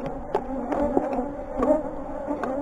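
Bees hum steadily inside a 33-frame horizontal hive box while smoke is being used on them, a close, dense buzz with a few louder passes from individual insects.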